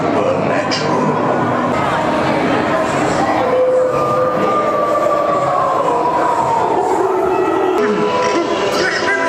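A Haunted Mansion ride carriage rumbles along its track at Disney, a steady loud rolling drone with a rising howl-like tone and ambient crowd murmur, while a voice speaks over it.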